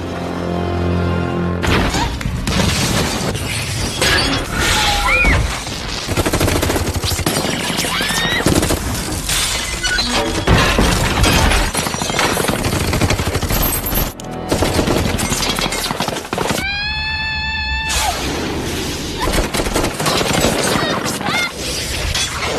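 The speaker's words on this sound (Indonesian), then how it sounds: "Ya, faktanya tembakan tersebut berasal dari para antek-anteknya Wall." Sustained movie gunfire as henchmen riddle a house with bullets, dense rapid bursts like a machine-gun barrage filling most of the stretch, with a brief lull and a high ringing tone near the end.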